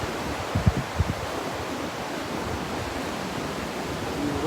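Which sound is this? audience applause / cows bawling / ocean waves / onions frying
ocean waves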